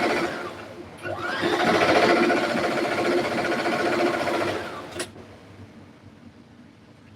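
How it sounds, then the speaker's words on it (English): A sewing machine stitches an added piece onto a pair of pants, one steady close whirring run of about four seconds that ends with a click. "So I'm just going to sew a little piece to make it 47."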